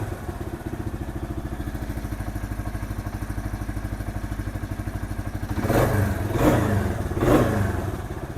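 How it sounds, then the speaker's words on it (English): A freshly rebuilt Kawasaki KL250 engine idles steadily up close, its rapid throb rising in three quick revs near the end. "The engine sounds good."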